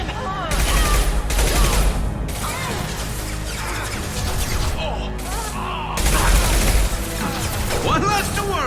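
Sustained gunfire from the video game Mass Effect 2 during a firefight, dense and loud with bursts of impacts and crashes, mixed with voices talking over the battle.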